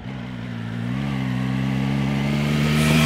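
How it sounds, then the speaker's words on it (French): A Triumph three-cylinder motorcycle engine and exhaust idles with a steady harmonic drone, then rises in pitch and volume as it revs up smoothly, close and alone. "Là, c'est vraiment un vrai son de 3 cylindres"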